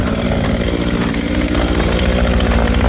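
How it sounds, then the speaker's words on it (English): A powered auger boring into soil to install a termite bait station, a steady loud engine drone with a gritty churning texture, close and unbroken. "We use the auger here, and I basically just aug down into the ground."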